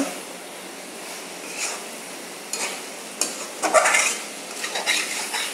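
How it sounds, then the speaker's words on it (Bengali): Lentil paste is added to bottle gourd cooking in a pan; a soft sizzle runs under spoon scrapes and metallic clinks that grow busier toward the end, with no one speaking. "এবার আমি মসুরের ডালটা এর ভিতরে দিয়ে দিচ্ছি।"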